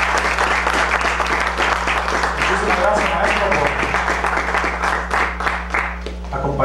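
An audience applauds to welcome a guest at a lecture on Colombian plucked-string music, a dense, sustained wash of clapping with a voice speaking over it.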